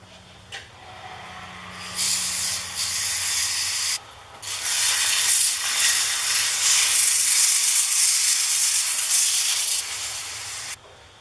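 A natural-edge wooden bowl soaked in boiled linseed oil is sanded on its inside. Close, loud hissing sanding comes in several long bursts with brief pauses between them.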